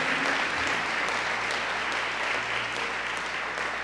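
A church congregation claps together during a Portuguese-language sermon, a dense, steady round of applause from many hands that holds at an even level throughout.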